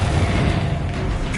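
A Confringo fire spell explodes in Hogwarts Legacy, a dense, steady rumbling blast that fills the short stretch with low, loud booming and crackle, no clear separate hits.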